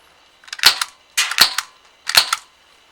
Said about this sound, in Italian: vi voglio far sentire giusto 3 colpi e 3 colpi, la differenza con e senza silenziatore